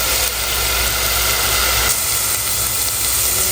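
Onion, garlic, ginger and ground whole garam masala sautéing in a hot pan, a loud continuous sizzle and hiss with a low hum underneath, steady from start to end.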